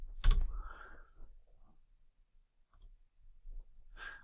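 A few keystrokes and clicks on a computer keyboard, spaced out and quiet, with near silence between the short bursts.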